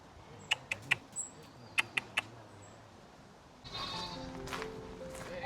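A few sharp clicks come first, then a goat lets out a loud, drawn-out bleat nearby that wavers and carries to the end.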